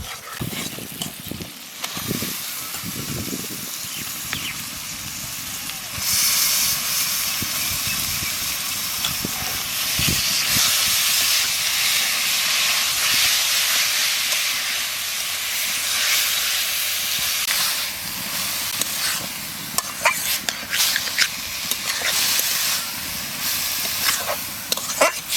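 Ground spices sizzle and hiss loudly in a village kitchen pan as cream is added for a banana stem dish, a steady bright frying hiss that swells after a few seconds and holds, with scattered clatter and stirring.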